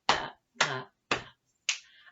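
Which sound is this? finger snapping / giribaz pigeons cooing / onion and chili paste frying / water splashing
finger snapping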